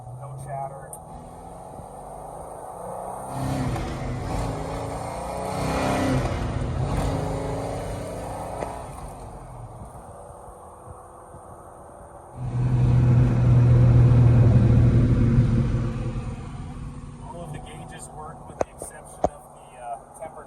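A 1970 Pontiac GTO Ram Air IV V8 rumbles steadily while driving, swelling into a louder, heavier engine surge partway through before easing back, with a voice talking over much of it.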